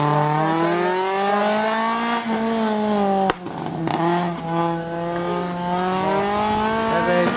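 A race car revs hard off the line at the 6th Slalom Curinghese 2021, its loud, close engine note climbing steadily, breaking off with a sharp gear change, then pulling on again with a sustained rising drone.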